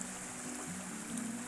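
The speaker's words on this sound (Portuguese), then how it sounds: "Aqui tem como se fosse uma mini cachoeira ali na frente" Small waterfalls in a park in Santa Maria del Molise, Italy, give a steady, faint broadband rush of falling water, continuous and unbroken through the short moment with no voices.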